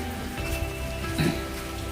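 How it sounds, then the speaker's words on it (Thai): Steady rain falls on the grounds of a large garden house in rural Nakhon Nayok, Thailand, a continuous close hiss with no voices. "ฝนตกลงมาด้วย"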